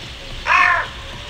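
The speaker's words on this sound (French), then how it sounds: "Corneille." A carrion crow gives a single harsh caw, loud and close, lasting about a third of a second against a quiet background hiss.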